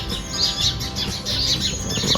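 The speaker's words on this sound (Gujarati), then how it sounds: "ભાઈ વાહ, બહુ મસ્ત લીમડામાં બોલે છે." Several small birds, sparrows and parrots, chirp and tweet repeatedly close by in a neem tree, their bright calls overlapping over a soft background hum.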